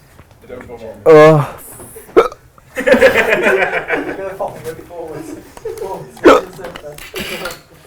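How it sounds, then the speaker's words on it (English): A man hiccups repeatedly after eating chili, with sharp gulping catches spaced a few seconds apart, mixed with laughter and chuckling from others nearby. "Oh, here come the hiccups."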